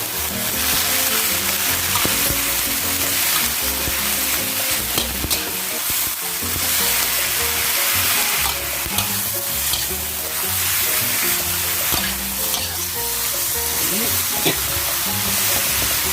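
Melon shoots stir-fried with black pepper in a pan crackle and sizzle loudly and steadily, with clattering stirring throughout and a low hum underneath, no speech heard.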